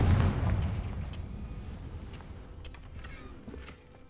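A Confringo spell explodes in the video game Hogwarts Legacy: one heavy boom that rumbles and slowly fades over several seconds, with no voices.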